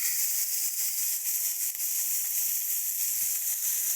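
Chopped raw green hog plum frying with salt and ginger, a loud, continuous hissing sizzle held close and steady for the whole stretch, with no talk.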